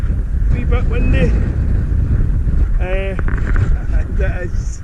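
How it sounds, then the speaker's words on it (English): Strong gale-force wind roars across an exposed campsite out in the open, buffeting the microphone in a loud continuous rush while someone talks over it. "boy is it blowing a gale"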